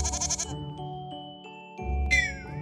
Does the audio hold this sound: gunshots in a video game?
no